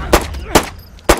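Gunshots in a survival video game about cannibals in an underground setting: three sharp, loud reports spaced irregularly over about a second, each a sudden broadband crack with quick decay and faint background ambience between.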